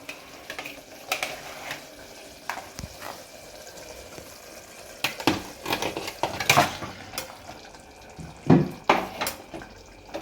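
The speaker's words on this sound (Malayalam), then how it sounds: "ഇനി നമുക്ക് ചിക്കൻ ഇടാം" Raw chicken pieces are added to a home-cooked chicken curry with a little water and stirred, giving intermittent wet clatter and scraping bursts, near and moderately loud, with no talking.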